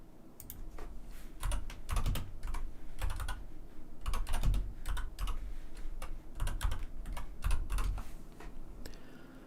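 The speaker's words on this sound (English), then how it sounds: "But it's kind of loud keyboard." Fast, steady typing on a loud mechanical computer keyboard in a quiet room, dense close clicks with bursts of heavier key strikes and no talk.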